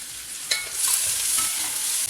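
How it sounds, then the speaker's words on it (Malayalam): Chopped onion, garlic, chili, curry leaves and cardamom sautéing in a pan give a steady, close sizzle, with a sharp scrape of stirring near the start and continuous crackle afterward. "ഇത് നന്നായിട്ട് വഴറ്റി സവോള ഒന്ന് വാടി വരണം."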